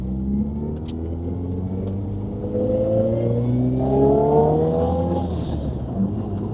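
A car engine revs up steadily, its pitch climbing through the gears with a deep rumble, close and loud.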